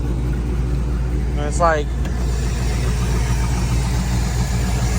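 Blown C5 Corvette Z06 engine idling steadily, a low continuous rumble under a brief spoken remark, with a short rising whine partway through.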